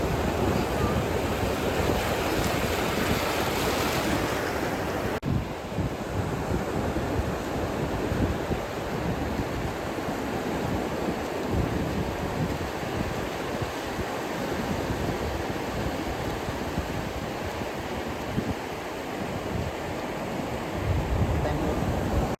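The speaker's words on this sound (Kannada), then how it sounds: "ಡ್ರೈವಿಂಗ್ ಇನ್ ಬೀಚ್ ಮಾತ್ರ ತುಂಬಾ ಚೆನ್ನಾಗಿದೆ" Surf and rushing wind on the beach at Muzhappilangadu in Kannur, Kerala, where cars drive on the sand: a loud, continuous roar of waves with heavy wind buffeting the microphone throughout.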